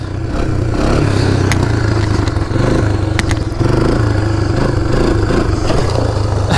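A motorcycle engine revs hard and steadily throughout a wheelie attempt, loud and close, with rising and falling throttle and some clatter, no talking.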